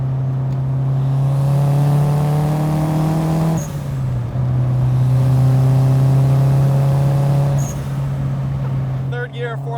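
Inside a 350 hp Toyota AW11 MR2 with a swapped 3S-GTE engine, the engine drones loudly and rises steadily in pitch, breaks off briefly at each upshift, then climbs again through the gears.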